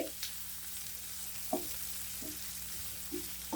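Onions sauté in a pan over a low flame for an egg side dish, giving a soft, steady sizzle. A few brief stirring scrapes break through, and no voices are heard.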